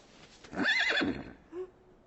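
A horse in a stable gives one loud, clear whinny lasting under a second, then a short, softer snort, with no talk around it.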